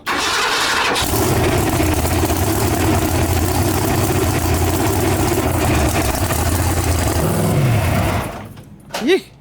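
A truck engine with a newly installed starter cranks and fires, then runs at a loud steady idle close by before shutting off near the end.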